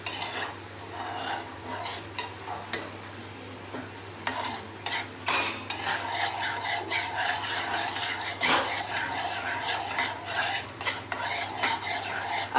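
Sugar syrup stirred in a pan with a metal spoon, close rhythmic scraping and rasping strokes against the pan with a faint background hum, no talking.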